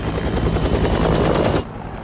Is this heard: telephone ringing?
no